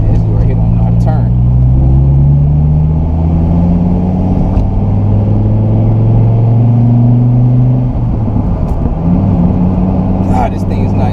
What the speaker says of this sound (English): when you let off the gas, listen to that sound. It makes the nastiest little popping burble sounds